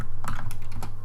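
Several quick key presses on a computer keyboard, close and crisp, a short burst of typing with no voice over it.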